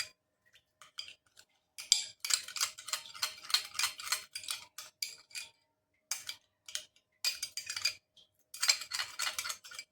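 Jaggery powder face pack is stirred in a small bowl, producing quiet, rapid clicking and scraping taps in bursts separated by short pauses.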